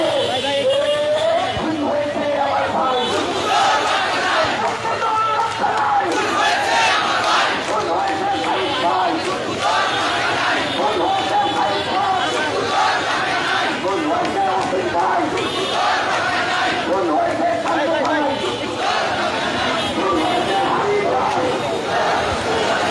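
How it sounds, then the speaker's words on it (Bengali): A large protest crowd in Dhaka chants slogans in rhythmic unison as a street demonstration marches from Shahbag toward Dhaka University's TSC. The loud crowd noise runs throughout, with a voice talking over it. "আমরা দেখতে পাচ্ছি স্লোগান তুলছেন তারা।"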